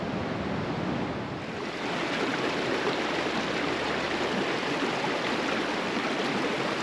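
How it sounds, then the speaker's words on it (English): Water rushes and splashes under rocks along the Reed Lakes Trail in Hatcher Pass, Alaska, a steady broadband roar that stays loud and continuous, with no voices over it. "All the water rushing under the rocks is really kind of cool."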